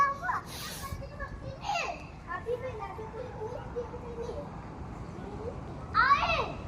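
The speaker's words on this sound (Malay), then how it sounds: "Nah, lihatlah tu anak-anak ai riang-riang ria." Children play at an apartment condo playground in Setapak, Kuala Lumpur, their distant shouts, chatter and squeals rising over a steady outdoor murmur, with a louder cry near the end.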